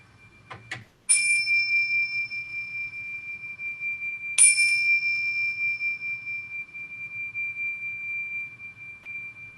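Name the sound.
bell rung at start of church service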